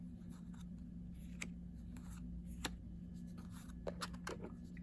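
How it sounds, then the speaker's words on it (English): Small Little Lenormand cards set down one by one on a table in a tableau, giving quiet, close, irregular light taps and slides over faint background hum. "lay out some of the cards in a sort of a tableau here"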